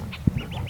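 Young ducklings give a few short, soft quacks and peeps, close by, in quick irregular succession.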